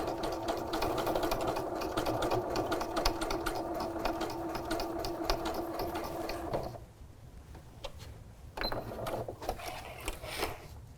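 Sewing machine running steadily for top stitching with a long stitch length near 3 and no bobbin thread, a loud continuous mechanical whir that cuts off abruptly partway, followed by quieter handling clatter.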